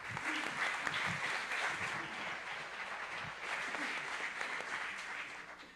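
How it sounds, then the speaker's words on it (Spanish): A seated audience at a round-table panel on computing applauds together in a sustained, even wash of clapping throughout, fairly distant and moderately quiet. "Recibamos también con un aplauso."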